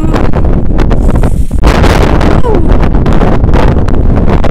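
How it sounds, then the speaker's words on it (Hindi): Cold wind in Ladakh buffets the microphone loudly and steadily, a dense rumbling roar that stays strong throughout with a brief dip partway, near and close to the mic. "बहुत ठंडा हवा चल रहा है"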